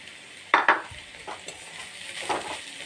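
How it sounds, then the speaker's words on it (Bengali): Grated beetroot frying gently over low heat in a pan: a faint background sizzle with a few sharp spatula scrapes and clinks against the pan, then softer stirring sounds. "এবার বিটটাকে একটু আমি ভাজা করবো হালকা আঁচে আস্তে আস্তে এরকম করে ভেজে নেবো"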